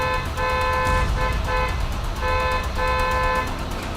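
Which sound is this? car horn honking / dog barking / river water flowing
car horn honking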